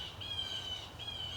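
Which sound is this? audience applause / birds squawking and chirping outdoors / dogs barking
birds squawking and chirping outdoors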